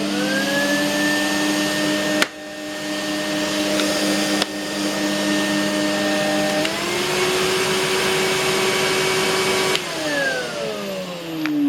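Henry vacuum cleaner switched on after a power cable replacement, a loud steady motor whine with shifting pitch and a few brief clicks and dips as it keeps running.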